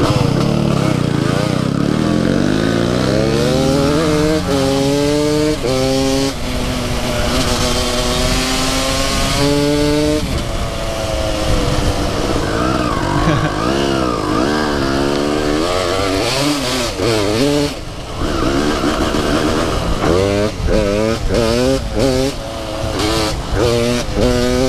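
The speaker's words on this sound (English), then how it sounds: "Around Honda Grom SF CR250. This thing is insane." Honda Grom motorcycle swapped with a Honda CR250 two-stroke engine, revving hard and loud up close with a buzzy, rising and falling two-stroke wail, while people talk over it throughout.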